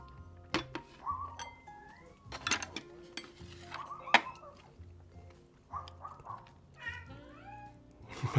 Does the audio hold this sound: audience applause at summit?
no